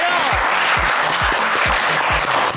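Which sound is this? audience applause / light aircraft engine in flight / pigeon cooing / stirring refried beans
audience applause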